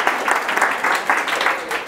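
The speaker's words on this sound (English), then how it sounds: "Round of applause for Tracy," An audience gives a round of applause at an evening talk event, dense steady clapping filling the room for the whole stretch with no speech over it.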